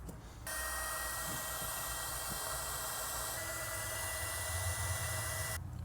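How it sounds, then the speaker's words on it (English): A small heat gun used on a Mercedes headlight bulb repair blows a steady, loud, hissing whir for about five seconds, switching on at the start and cutting off near the end, with no talking. "now I'm gonna use a small heat gun"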